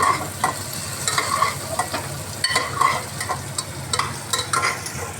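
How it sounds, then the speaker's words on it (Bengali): Vegetables with ginger are stirred and sautéed in a pan, producing a close, continuous frying hiss broken by rhythmic scraping strokes of the spatula. "এটাকে একটুখানি নাড়বো"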